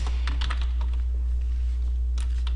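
Computer keyboard keys tapped in short bursts while a format command is entered, close crisp clicks in an uneven rhythm over a steady low electrical hum, with no voices.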